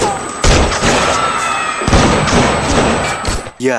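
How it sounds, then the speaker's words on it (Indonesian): Loud, dense bursts of gunfire and heavy thuds crowd together in a chaotic film shootout, with brief pauses between volleys. "aksi tembak-tembakan pun terjadi"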